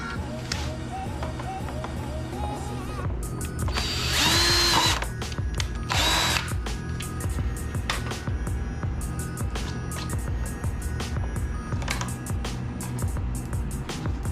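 A power drill bores holes during an AEM gauge install on a K20-swapped AWD Honda Civic, with two loud whirring bursts amid clattering workshop handling noise and light background talk.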